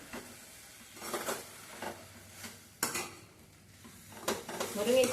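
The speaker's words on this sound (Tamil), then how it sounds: "நல்லா கலந்து விடணும்" Seasoned drumstick leaves are stirred in a pan: a spatula scrapes in several separate strokes over a faint sizzle, with a few metallic clinks against the pan.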